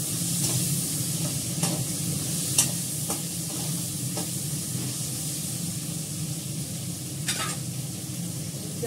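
Potatoes frying steadily in a pan, a continuous close sizzle with scattered clicks and scrapes of stirring throughout, no voices.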